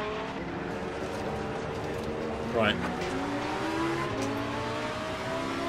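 A race car engine roars loudly and steadily in the Assetto Corsa Competizione racing game, with a brief rising shift-like sweep partway through, while a voice talks over it.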